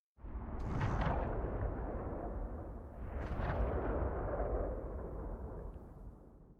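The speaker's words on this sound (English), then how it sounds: "And this sniper has a loud, long, boomy tail." A designed sniper rifle gunshot with a loud, long, boomy tail: a sharp blast followed by a sustained rumbling decay, with a second similar shot a few seconds later, heavy and full without any voices.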